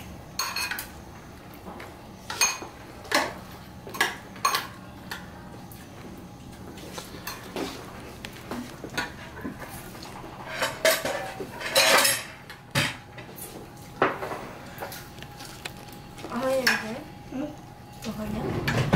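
Spoons clink against bowls as several people eat cereal with milk, scattered taps and scrapes spread irregularly, with people talking between them.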